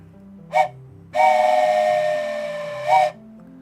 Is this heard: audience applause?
no